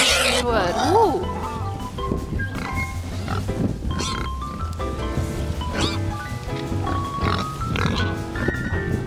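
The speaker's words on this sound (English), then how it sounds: "The Magalitza Schweine are a special race that is only bred here in this region." Mangalitza pigs, an old breed raised in the Lake Neusiedl region of Austria, grunt and squeal close by, mixed with steady outdoor talking over them.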